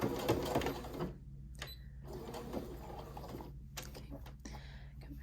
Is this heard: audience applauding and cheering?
no